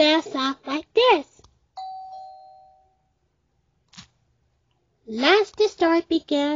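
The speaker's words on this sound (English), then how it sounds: "hear the doorbell sound like this." A single two-tone doorbell chime rings between stretches of a child-like voice talking, clear and isolated, then decays into silence before the speech resumes.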